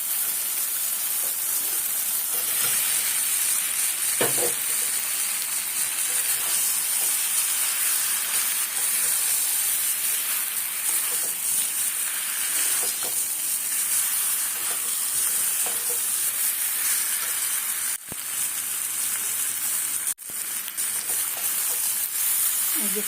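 Potatoes being stir-fried with spice masala in a pan for aloo dum, a loud dense sizzle and hiss running continuously with occasional stirring scrapes, close up.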